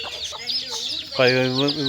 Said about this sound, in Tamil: 2 கோழி பார்த்தோம் ஒரு 30 கோழி குஞ்சு இருக்குங்க